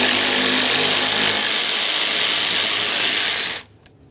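Rapid ratchet clicks as a hand ratchet backs out the 10mm fan shroud mounting bolts on a 1994-2001 Dodge Ram 1500 5.2L V8, a steady close clatter that stops abruptly near the end.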